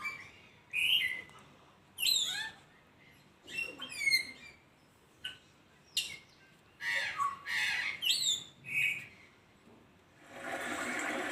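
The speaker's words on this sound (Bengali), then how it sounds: "পাখির কিচির মিচির শব্দ" Several birds give sharp chirps, squawks and whistled calls in bursts, some rising and falling, spaced irregularly with short gaps, fairly close, ending in a brief hissy noise.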